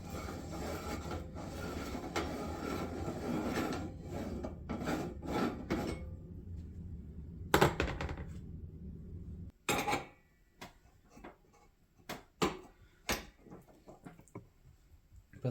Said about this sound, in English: I'm going to change out my grinding plate and grind this through a second time.